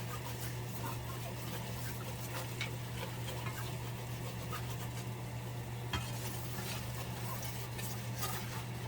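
A flour roux for duck gravy cooks in a pan, a quiet continuous sizzle with soft stirring scrapes and a low steady hum, no talking.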